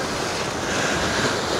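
Surf washing onto the Azov Sea shore at the General's Beaches in Crimea, a steady close wash of breaking waves mixed with gusty wind buffeting the microphone, with no voices.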